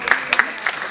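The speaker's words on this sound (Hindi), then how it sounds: "बहुत बहुत शुक्रिया तालियों के लिए।" An audience claps at an artists' gathering ceremony in Uttar Pradesh. The burst is brief, with a few sharp, scattered claps in under a second.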